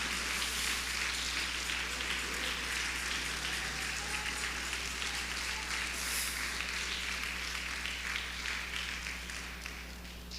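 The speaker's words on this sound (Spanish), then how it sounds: "dele palmas al Señor" A church congregation claps hands together during a service, a continuous faint patter of many palms that holds steady for several seconds before easing off slightly at the end.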